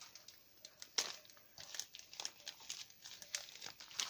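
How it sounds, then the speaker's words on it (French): A handmade card slides into a paper envelope, producing faint, close crinkles and rustling taps in an irregular series, with no talking. "Je vais mettre ça dans l'enveloppe."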